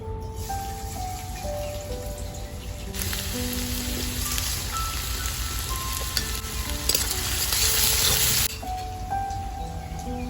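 Chopped onion and garlic fry in a pan for homemade pizza, a steady close sizzle with stirring scrapes and a louder burst of hiss partway through; no talking.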